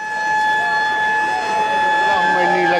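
A loud, steady siren sounds at iftar time at Hazrat Nizamuddin Dargah, holding a sustained wail that starts to waver and bend near the end over faint background bustle.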